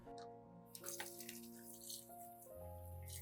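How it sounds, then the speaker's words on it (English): Tap water runs steadily over eggshells being washed in a sink, a continuous close splashing stream with a low hum underneath, no voices. "First, wash the eggshells thoroughly under running water."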